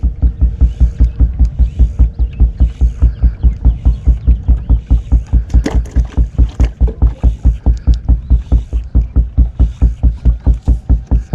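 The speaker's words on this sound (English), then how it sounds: "That beating the boat works, folks." Rhythmic thumping on a fishing boat's hull to draw striped bass on a lake, loud, close, deep knocks repeating steadily about four times a second for the whole stretch, with no talk over them.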